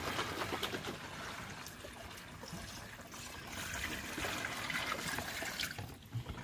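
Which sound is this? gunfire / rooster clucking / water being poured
water being poured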